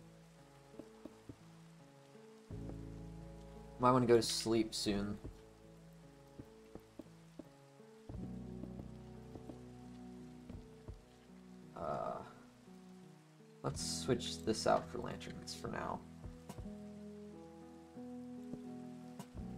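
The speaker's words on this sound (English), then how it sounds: "it's starting to rain." Rain falls steadily in the Minecraft survival game, a soft constant hiss running throughout, with occasional game clicks and sounds and someone talking in bursts over it.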